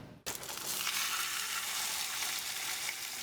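Mackerel grilling at a Busan eatery gives off a dense, steady sizzle and crackle of hot fat, close and continuous after a short start.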